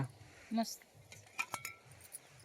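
Light metallic clinks of utensils knocking together while being cleaned outdoors in a farm field, a few quick taps in a short cluster, with a brief voice earlier.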